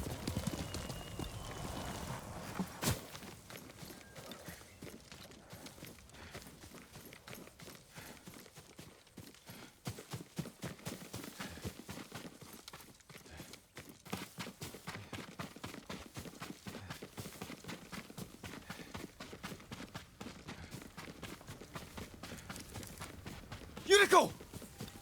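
Horse hooves clop at a walking pace throughout, fairly quiet and steady, with occasional soft voices and a brief sharp sound near the end, in the video game Ghost of Tsushima.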